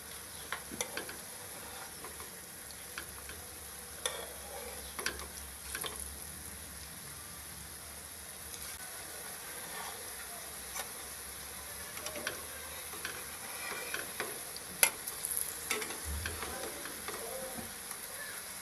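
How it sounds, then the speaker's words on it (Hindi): Potato tikki shallow-frying in a pan, a faint, low, steady sizzle with scattered soft ticks and pops over about eighteen seconds. "अब इसको एक साइड से फ्राई करेंगे जब तक इसका कलर गोल्डन ब्राउन नहीं हो जाता"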